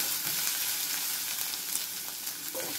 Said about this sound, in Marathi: तर हे सगळं व्यवस्थित परतून घेऊया